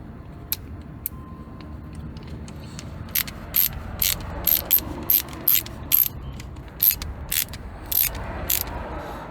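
A regular screw driven into the plastic window switch panel of a 1999–2004 Jetta/Golf GTI Mk4 gives a series of short, close clicking ratchet bursts. They start sparse, then become a quick irregular run, over a quiet background.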